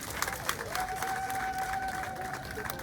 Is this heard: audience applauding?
yes